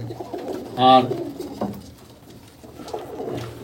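A brief, close coo from an Abluk pigeon stands out once over low background noise while someone talks softly nearby.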